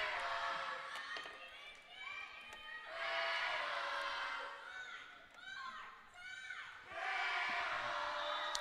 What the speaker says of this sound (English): Student body cheering section here having some fun